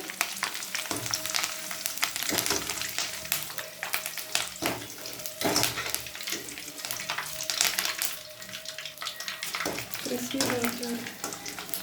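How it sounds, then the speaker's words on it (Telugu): Curry leaves crackle and sizzle as they fry in hot oil for curry leaf powder, with steady bubbling and occasional stirring scrapes throughout, fairly close and continuous. "ఇప్పుడు కరివేపాకులన్నీ వేయాలి. ఇలా బాగా వేయించుకోవాలి."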